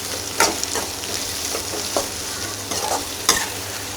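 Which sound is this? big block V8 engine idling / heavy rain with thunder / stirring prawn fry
stirring prawn fry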